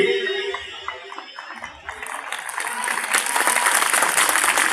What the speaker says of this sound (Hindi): मत बजाओ तालियां